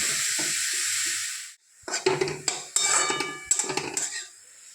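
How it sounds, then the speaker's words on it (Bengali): Carrot goes into hot ghee in a pan: a hiss fades, then clinks of a utensil against the pan and bursts of sizzling follow, close by with no talking. "ঘির মধ্যে গাজরটা দিয়ে দিলাম"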